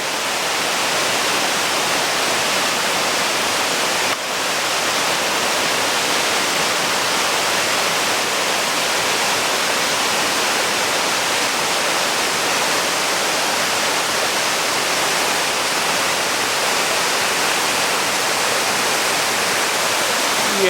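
Anna Ruby Falls, a tall waterfall near Helen, Georgia, roars as a steady, loud, broadband rush of falling water that holds unchanged throughout.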